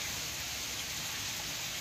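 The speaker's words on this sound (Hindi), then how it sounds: "कितनी तेज बारिश आई है।" Heavy rain pours down in a steady, dense wash of noise, close and continuous throughout with no talking.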